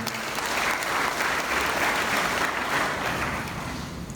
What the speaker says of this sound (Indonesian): mari kita sama-sama memberikan aplaus untuk pihak BNI